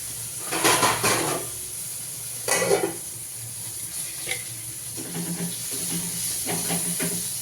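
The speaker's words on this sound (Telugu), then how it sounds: "ఇక్కడ కూడా మిరపకాయలు వేగిపోయి" Chillies frying in a pan, hissing and sizzling in close bursts as they are stirred, with quieter crackle between the louder surges.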